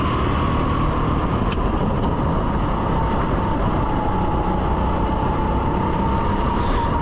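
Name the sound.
rental racing kart engine on track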